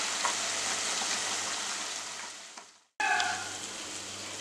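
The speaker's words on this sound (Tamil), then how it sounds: "இப்போ நம்ம chicken போட்டு பொரிச்சுக்கலாம்" Chicken pieces frying in a pan of hot oil, a steady close hiss and sizzle that briefly cuts out, then returns with fresh sputtering crackles.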